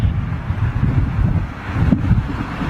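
Steady wind blows outdoors around a large jet aircraft parked on the ground, a loud continuous low rush with gusty swells and no talking.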